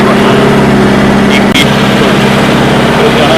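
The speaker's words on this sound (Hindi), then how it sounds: "अब ट्रैक्टर चालू करो।" A tractor engine running with a steady, loud mechanical drone and a low pulsing beat, holding constant apart from a brief dip midway.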